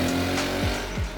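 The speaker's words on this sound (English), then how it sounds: "That engine has a lovely, smooth, rumbly bottom end, but you need to rev it to get a move on." BSA Scrambler 650 single-cylinder motorcycle engine rumbling nearby, with a low steady thrum broken by two quick rising revs or gear-change sweeps, alone without talk.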